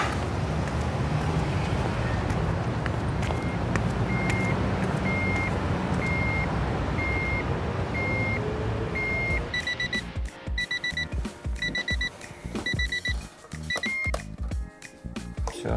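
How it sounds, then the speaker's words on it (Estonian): Steady electronic beeping repeats at a regular pace over loud, busy background noise, then continues as a faster double-tone beep as the noise gets choppier with clattering sounds. "See piiksub siin."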